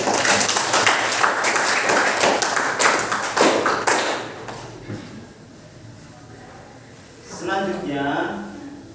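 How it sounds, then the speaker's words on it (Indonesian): An audience claps in a dense burst of applause that fades after about four seconds, followed by quieter room sound and a person speaking. "Beri tepuk tangan dulu."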